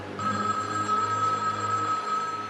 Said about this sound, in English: Till the phone rings